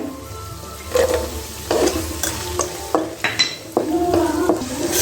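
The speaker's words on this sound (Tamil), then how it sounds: "நெய், முந்திரி பருப்பு," Cashews and raisins frying in ghee in a pan, a close, steady sizzle punctuated by repeated loud scraping strokes of a spoon stirring them.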